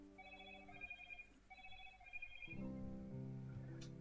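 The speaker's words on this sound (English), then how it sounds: "that horrendous noise is me getting a notification." A phone notification chime plays a repeating bright melodic pattern, two short phrases, then a louder sustained alert tone with a fuller ringtone sound, close and clear with no talking.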